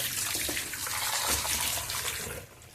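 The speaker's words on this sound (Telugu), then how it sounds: "నీళ్ళన్నీ వడి బాగా కిందికి దిగిపోయేంత వరకు వడేసుకున్నాము" Hot water drains from soaked cauliflower pieces in a strainer with a steady, close rushing trickle that thins out and fades near the end.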